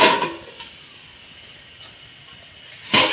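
Steam hisses as the lid is lifted off a steamer of semolina bhapa pitha, a breathy burst at the start, a quiet lull, then another strong hissing rush near the end.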